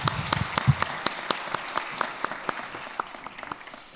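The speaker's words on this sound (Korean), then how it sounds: "이렇게 박수로 격려해 주시면 좋겠습니다." A church congregation at a Sunday afternoon service claps to honor a model teacher; the applause is moderate and scattered, with distinct individual claps that gradually thin out.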